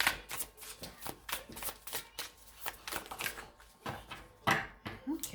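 A deck of tarot cards is shuffled up close in quick, uneven riffling bursts, with soft flicks and slaps of the cards repeating throughout.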